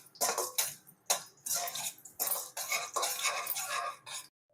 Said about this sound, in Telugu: ఇప్పుడు జీడిపప్పు, ఎండు ద్రాక్ష వేయించుకుందాం.